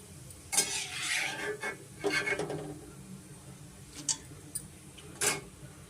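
A spoon stirs a tempered seasoning mixture through flattened rice (avalakki) in a pan, giving soft scraping and rustling strokes in irregular bursts, fairly quiet and close.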